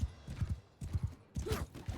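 Horses gallop in a Mount & Blade 2: Bannerlord medieval battle, rapid clustered hoofbeats in uneven bursts with a brief whinny, heard fairly faint behind the game's combat noise.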